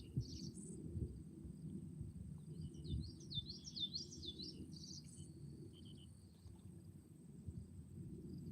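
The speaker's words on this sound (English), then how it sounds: "The birds are out here taking baths" Small birds chirp and trill at a pond's edge, their bright calls weaving over a steady low outdoor rumble, with a faint insect-like buzz in the background.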